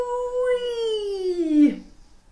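A human voice imitates a dingo howling: one long, sustained wavering howl that slowly slides downward in pitch, then cuts off abruptly with a rough catch, heard clearly and alone.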